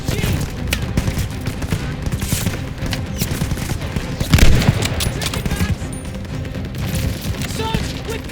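Sustained gunfire from a tower machine gun in the Call of Duty Vanguard mission Operation Tonga, a dense battle din of rapid shots and booms with a louder burst near the middle, voices faintly mixed in.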